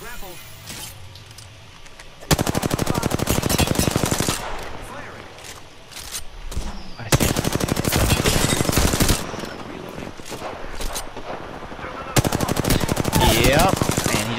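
Video game firefight with bursts of rapid automatic gunfire, several long loud volleys separated by quieter stretches, with players talking over the quieter parts.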